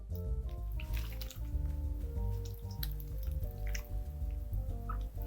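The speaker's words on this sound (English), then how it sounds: "So now let's take our sauce and pour that over the top of these wings." Sauce is poured over cooked chicken wings in a bowl, giving a steady wet dripping and squishing sound up close, with a low tonal hum running underneath throughout.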